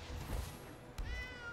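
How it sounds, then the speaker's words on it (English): A short cat meow sound effect from the MTG Arena video game, quick and fairly faint, with a second rising meow close behind, no talk. "kitty cat!"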